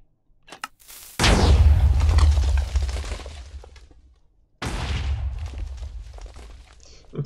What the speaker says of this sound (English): Impressive fireworks